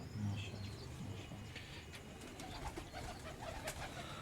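Low, soft pigeon coos repeat against a busy outdoor background, with scattered bird calls and faint distant noise throughout.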